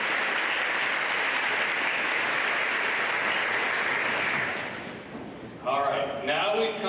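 An audience at an 8th grade celebration applauds the director with a loud, sustained wash of clapping that fades after about five seconds, after which a voice speaks.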